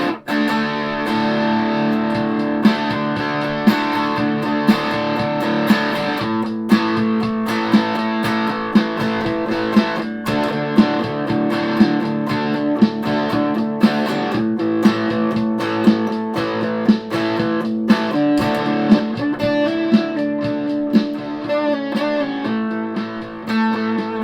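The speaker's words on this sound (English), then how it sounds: "Neck, full humbucker, distortions on now." Heavily distorted electric guitar, a Yamaha Revstar RS420 on its neck humbucker, playing continuously, thick and saturated with a warm, dark tone, with sharp picked attacks and sustained chords throughout.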